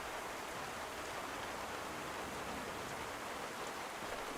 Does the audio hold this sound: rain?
yes